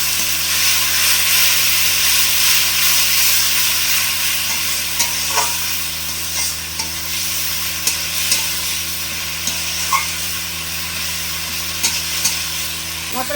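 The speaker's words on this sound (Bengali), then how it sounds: "ভালো করে মশলাটা আমি কষিয়ে নেব।" Spice paste of tomato paste, onion, garlic, salt, turmeric and chilli powder fries in a pan for a fish dish, giving a continuous close sizzle broken by scraping stirs of a spatula.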